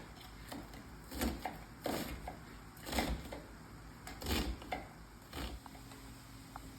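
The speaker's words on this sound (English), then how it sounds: "Now we're chopping the onions." Knife chopping onions on a cutting board while cooking ground beef dishes, heard as a run of about eight crisp, fairly close chops spaced irregularly under steady low background noise.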